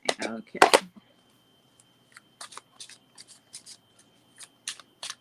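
Cards shuffled in two quick riffles up close, followed by a series of soft, crisp card snaps and flicks spaced out across the rest.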